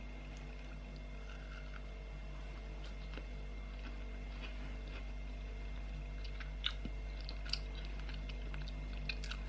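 Faint, close crunching bites and chewing as shortbread is tasted, with small scattered clicks over a low steady hum in an otherwise quiet room.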